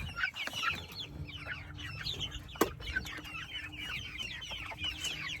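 Chickens on a farm cluck and chatter steadily at close to moderate distance, with many overlapping calls over a low background rumble.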